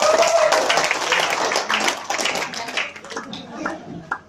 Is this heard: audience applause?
yes